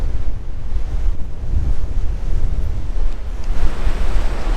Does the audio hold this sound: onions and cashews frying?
no